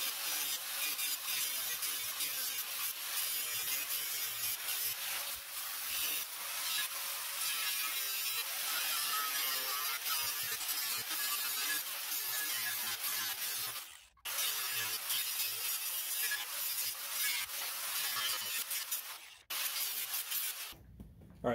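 Cutting out a damaged section of a mower deck, a harsh continuous grinding rasp of metal cutting, loud and close, with two brief pauses partway through.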